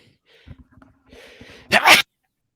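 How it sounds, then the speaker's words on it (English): After some soft breathy sounds, one person lets out a single sharp, loud sneeze close by. "No, I was sneezing"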